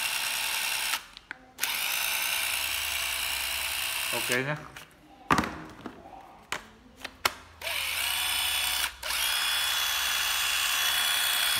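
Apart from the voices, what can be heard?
old cordless battery drill running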